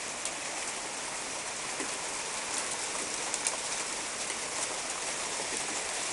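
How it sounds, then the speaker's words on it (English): Small hail, not even pea-sized, comes down hard in a dense, continuous hiss of tiny impacts with a few sharper ticks, steady throughout and without any voices. "Not even pea-sized hail, but still. It's coming down hard."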